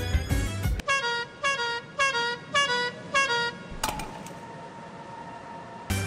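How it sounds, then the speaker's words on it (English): A modded car horn in a video game gives a special melodic sound after five honks: a bright horn note repeats in five evenly spaced bursts, then a sustained tone with a sharp click, all loud and close over a low engine rumble. "So if you honk the horn like 5 times, it makes a special sound."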